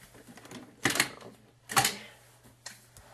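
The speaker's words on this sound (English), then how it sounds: "the grass border punch." A Fiskars grass border punch cuts through paper for a scrapbook layout, giving two quiet, crisp crunching clicks about a second apart.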